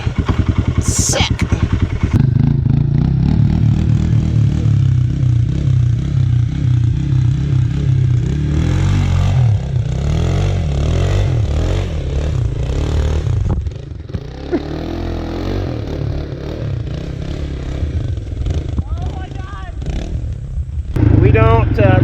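Four-wheeler engine revving while being driven, a loud buzzing roar that rises and falls with clattering and scraping, close by, with people talking over it at times.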